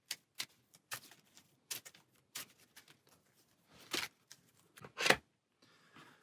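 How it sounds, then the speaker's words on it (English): A deck of game cards being shuffled by hand for a solo tabletop board game, a quiet series of crisp flicks and riffles, irregular and close, with short gaps between bursts and no voices. "We're going to shuffle these and draw 2 and choose one to proceed with"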